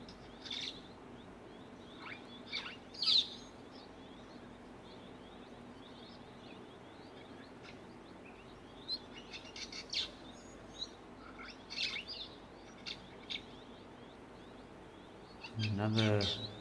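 A small red-billed firefinch calls at a waterhole with thin, high chirps and tweets scattered through a steady outdoor hush, with short bursts and gaps between them, and other faint birds and background noise around.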